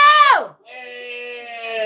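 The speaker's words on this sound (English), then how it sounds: "Let me hear you scream." A child screams loudly and close by, a long sustained high-pitched shout that breaks off briefly and then resumes as a steady, strained cry.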